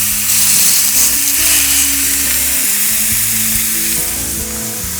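Thin lean ground beef taco burgers frying meat side down on a hot surface, a loud, steady close sizzle with crackling spatter throughout and occasional scraping as the patties are moved.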